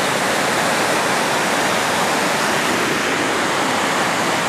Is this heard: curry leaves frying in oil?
no